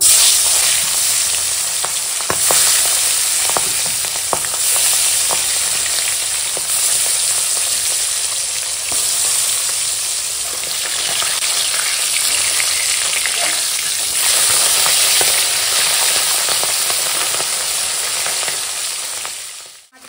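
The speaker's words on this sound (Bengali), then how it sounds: "তেল গরম হয়ে গেছে, এখানে মাছ ছেড়ে দেবো।" Fish coated in salt and turmeric sizzles in hot oil in a pan, a loud, steady frying hiss with crackling pops that continues unbroken for about twenty seconds, without talk.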